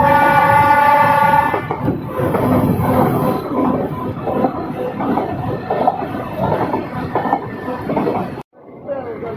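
A passenger train between Ooty and Coonoor sounds its horn at the start, then rumbles and clatters steadily nearby before the noise cuts off abruptly near the end.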